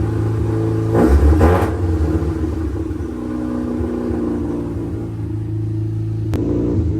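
A Mazda RX8 with a Bridgeport-ported rotary engine, converted to manual, idles while warming up, a steady lumpy rumble close by with a brief louder burst early and a short sharp click later.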